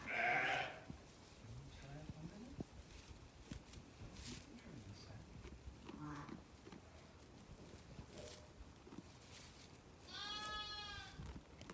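Lambs bleat on a farm during lambing season, a few loud wavering cries near the start and end with fainter calls between, while a person talks over faint background noise.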